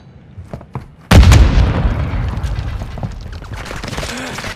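A grenade goes off in the Call of Duty Modern Warfare 2 multiplayer game: a sudden loud, deep blast after a second of quieter clatter, followed by a rumbling tail mixed with scattered gunfire and battle noise.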